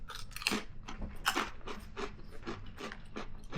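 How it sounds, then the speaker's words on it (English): Bacon ranch potato skin chips crunch between the teeth in a run of sharp, dry bites and chews, close and loud, with no talking. "A really deep crunch."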